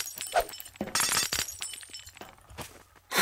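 Glass panes break and shatter in the video game Garry's Mod, with a few sharp crashing bursts and scattered clinks, fairly close and with no talk.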